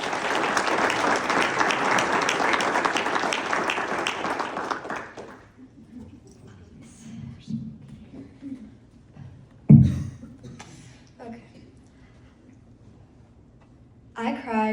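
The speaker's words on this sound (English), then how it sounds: "Give her a round of applause." Loud, dense applause from a crowd fills the first few seconds, then fades out into quiet room sounds and a voice speaking.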